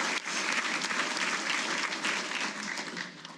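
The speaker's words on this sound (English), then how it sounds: "One more round of applause, please." Audience applause at a Hall of Fame induction ceremony, a dense, steady clapping from a large crowd that carries loudly and evenly throughout before easing slightly at the end.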